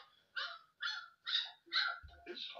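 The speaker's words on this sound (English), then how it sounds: "There's the loud bark." A dog barks four times in a steady rhythm, close and clear, then lets out a shorter, whinier bark-like yelp.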